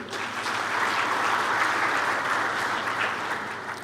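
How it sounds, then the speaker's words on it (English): Steady, dense applause from a congress audience thanking a presenter at a science conference, full and sustained with no voices over it. "A final round of applause for him."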